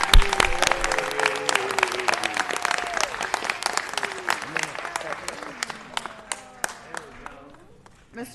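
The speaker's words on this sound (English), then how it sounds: "Let's give him a round of applause" Applause at a city council meeting, honoring a high school DJ, with clapping strongest at the start and thinning out. Voices talk and call out over it, and a few scattered claps remain at the end.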